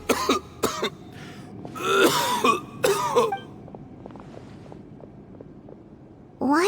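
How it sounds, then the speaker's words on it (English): A video game character, a man, coughs and clears his throat in several harsh, hacking bursts, then goes quiet before one more cough at the end. "Why is he coughing so much?"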